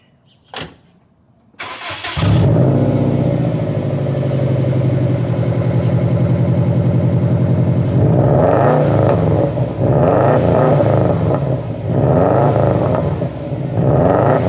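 A 2002–2007 Subaru WRX wagon on its stock exhaust starts up after a brief crank, then idles with a steady low burble before several sharp revs rise and fall, close and loud.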